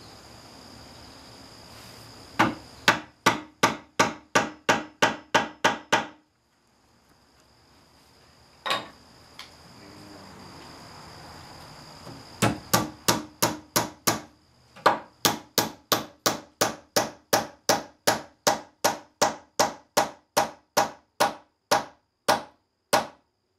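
Mallet blows drive a glued wooden wedge into a chair leg, sharp regular knocks in two bursts with a pause between, the later run long and steady, close and loud with no talk.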